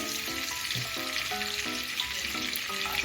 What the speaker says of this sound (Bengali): এবার দারচিনি ফোড়নটা একটু ভেজে নিচ্ছি